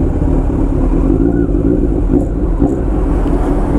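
A Kawasaki Z900 motorcycle engine on throttle gives a loud, close, continuous low rumble that holds steady for a few seconds without a clear rise in pitch.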